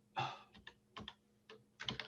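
Someone types a search keyword on a computer keyboard, giving a few quick, close clicks in small irregular bursts with short pauses between them.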